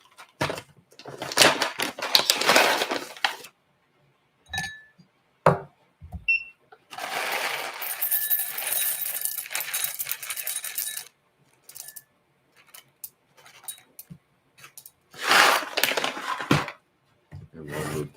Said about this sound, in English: measuring out our beans, 20 grams of coffee